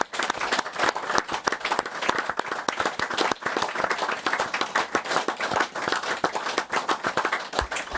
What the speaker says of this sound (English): I think we should just give him a round of applause